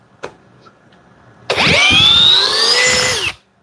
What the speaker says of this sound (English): we're going to be in high speed and in drill mode for this